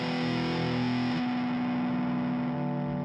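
Unmuted electric guitar strings ring through a high-gain distorted amp, giving a continuous buzzing, humming wash of string noise with a sustained harmonic drone and no clear picked notes.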